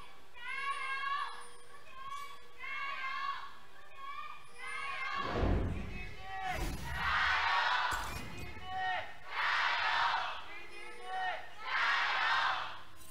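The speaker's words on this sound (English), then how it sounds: "let's hear from the crowd on their thoughts about this matchup" An esports arena crowd at an LPL match between Edward Gaming and Suning Gaming chants and cheers in swelling waves, mixed with children's voices and scattered thumps, moderately loud throughout.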